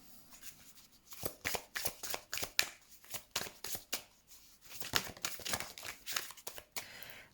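Tarot cards shuffled by hand in a steady run of crisp riffling bursts, close and fairly loud, with short pauses between passes and no talk.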